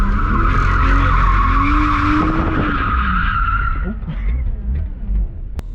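BMW E90 drift car skidding hard through a corner, a loud sustained tire squeal over engine roar that fades toward the end, with a voice briefly audible.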